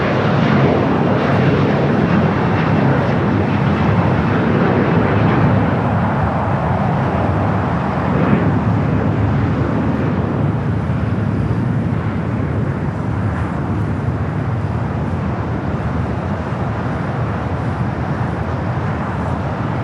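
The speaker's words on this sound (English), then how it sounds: "Next takeoff is a EJet Alaska Horizon Flight 2254 heading to Redmond." An Alaska Horizon Embraer E-Jet takes off from Los Angeles International Airport, bound for Redmond, its engines giving a loud, steady roar throughout that slowly eases off, heard alone without talk.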